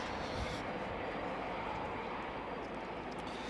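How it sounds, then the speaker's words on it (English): Jet aircraft engines spooling up during startup at RAF Coningsby, a steady broad roar that stays constant and fairly distant, with no voices over it. "More jets coming out."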